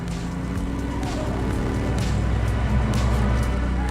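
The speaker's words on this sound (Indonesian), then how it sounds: "Dengan cepat, Richie segera mengejar Danny menggunakan mobil." A car engine drones during a car chase in an action film, a steady, loud, low rumble with a sustained hum and no pauses.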